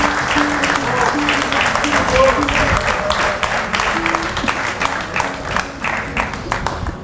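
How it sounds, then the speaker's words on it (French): An indoor crowd at an exhibition opening applauds the organizing committee, with sustained, dense clapping throughout, and voices mixing in beneath it. "merci d'applaudir Mélanie, et avec elle tout le comité d'organisation"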